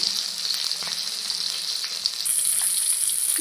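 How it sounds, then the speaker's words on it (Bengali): Three local pond koi fish fry in hot oil in a pan, giving a steady, close hissing sizzle that swells slightly toward the end. "এই তিনটা কই মাছ কিন্তু আমার ভালো করে ভেজে নেওয়া হয়ে গেছে উঠিয়ে নেব"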